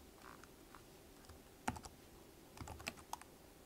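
Keys clacking on a computer keyboard as a Linux chmod command is typed, a few scattered light taps followed by a quicker burst of keystrokes, quiet and close with no talking.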